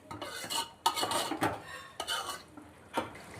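Coriander-cumin powder and asafoetida stirred in a pan for an eggplant bharta, a spoon scraping and clinking against the metal in several short bursts, close and fairly loud, with no talking.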